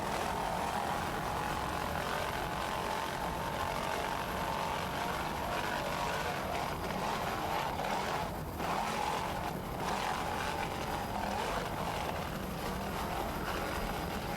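A pair of 600 horsepower Bandit inboard engines roar on an offshore racing powerboat at a Virginia Beach grand prix, a loud, continuous droning rumble that holds steady throughout.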